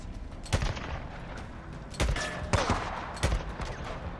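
Gunfire in Days Gone rings out as several loud, sharp shots spaced irregularly over a few seconds, above a steady background of ambient game noise.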